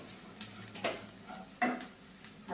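Salted puffed-rice mixture being stirred in a frying pan: a soft background sizzle with a few scraping strokes of a spoon against the pan, close and fairly quiet, with no voices.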